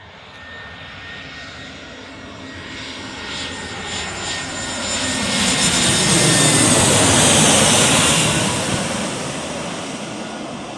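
An EasyJet Airbus A319 comes in to land at Birmingham Airport, its jet engines roaring and hissing as the aircraft draws nearer, building to a loud peak then fading slightly, with no voices.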